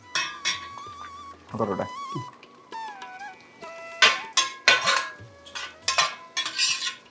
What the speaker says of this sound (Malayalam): ഇതിലേക്ക് കുറച്ച് കിസ്മിസ് ആഡ് ചെയ്യാം.